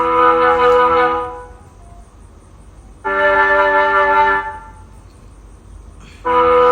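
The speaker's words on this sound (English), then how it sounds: "first instrument is the Mellotron" Sustained Mellotron choir-voice chords swell and fade three times, each held a second or two, loud and alone.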